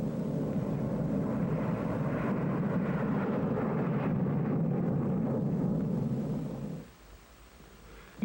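A specially instrumented test aircraft flies on a nuclear weapons safety test mission, a loud, steady broadband roar that holds for about seven seconds before abruptly dropping to a faint rumble.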